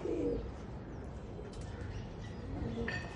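Pet pigeons in a home loft give a brief coo at the start and another faint one later, both set against continuous low background noise.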